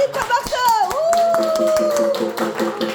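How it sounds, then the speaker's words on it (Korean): An audience at a Korean folk song class claps in a steady patter while a voice lets out a long, sustained whoop over the applause. "힘찬 박수."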